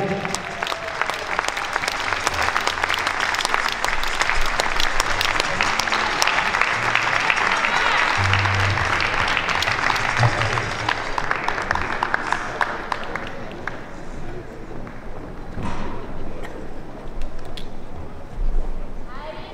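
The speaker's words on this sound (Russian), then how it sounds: "Приветствуем аплодисментами" Long applause from spectators at a ballroom dance festival in Minsk, a thick roar of clapping that fades toward the end, with a voice and faint music underneath.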